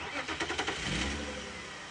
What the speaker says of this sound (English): It does look up every time we turn the engine on.